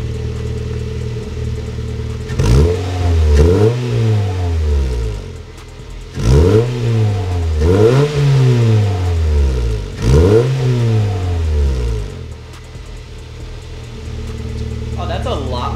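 A Honda Fit GD3 fitted with an HKS Hi-Power muffler revs three times, each rise and fall of the engine fairly deep-toned and close, with the idle steady between revs.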